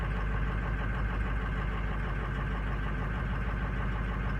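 Diesel truck engine idling steadily during a diagnostic check of its injectors, a close, continuous low rumble with an even, slightly uneven-firing pulse throughout.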